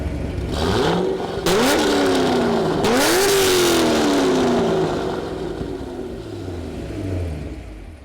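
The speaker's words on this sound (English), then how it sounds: "Fire up. And now, the Corvette." A Corvette engine fires up and revs hard several times, a loud raucous roar rising and falling in sharp bursts before settling toward a rumbling idle, heard close with no talking.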